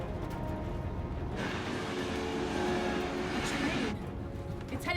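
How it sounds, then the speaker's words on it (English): Heavy broadband rumble of a train bearing down in a monster movie scene swells loudly for a few seconds, then cuts away abruptly, with low muffled voices in the background. "Train. It's heading straight towards it."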